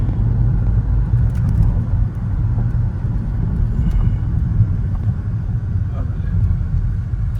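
Skoda Kylaq car driving on a highway, with a steady loud low engine and road rumble throughout while a person talks over it.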